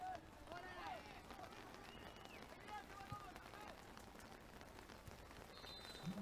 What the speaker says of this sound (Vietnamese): hiện tại trên sân thì đang có những hạt mưa